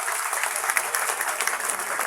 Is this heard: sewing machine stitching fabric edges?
no